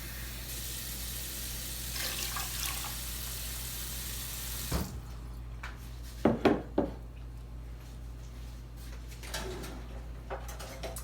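Running water fills a cooking pot for rice for about five seconds, a steady close rush that then stops, followed by a few sharp clinks of the pot and utensils in a quiet kitchen.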